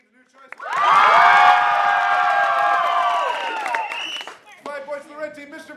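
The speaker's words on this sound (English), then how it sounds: "Applaud now for red team's new choice." High school crowd at a Comedy Sportz improv league show erupts in loud cheering, whooping and clapping for the red team, sustained for several seconds before fading, followed by a voice speaking.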